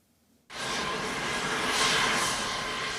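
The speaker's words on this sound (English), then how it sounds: "This Danish Royal Air Force plane touched down in Greenland's capital, Nuuk" A Danish Royal Air Force plane landing in Nuuk, Greenland, its engine roar cutting in abruptly and holding as a loud, steady broadband rush close by with no talking.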